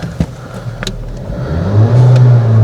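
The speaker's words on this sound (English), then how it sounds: "Let's start the engine." A VW Golf 1.5 TSI engine starts and revs up, its steady mid-pitched drone building and holding loud and close, without any talk.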